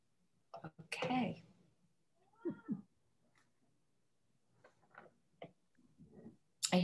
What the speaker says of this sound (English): I hear a kitty that might want to speak